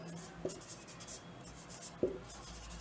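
Chalk or marker taps and scratches on a classroom board during a chemistry lesson, two short faint strokes against a quiet room background.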